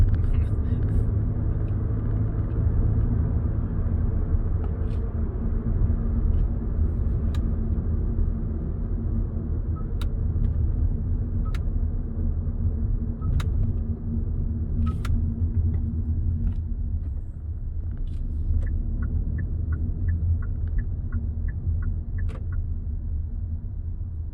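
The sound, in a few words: car driving in second gear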